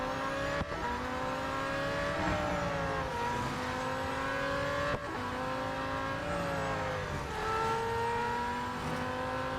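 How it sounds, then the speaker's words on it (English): Race car engine in Real Racing 3 holds a loud, continuous roar with rising and falling revs through gear changes, a couple of sharp shifts, alone without talk. "I do enjoy racing this car."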